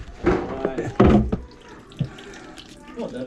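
Water runs and splashes from a plugged kitchen sink tap that is flooding, a gurgling irregular wash with clattering, heard near and under people talking.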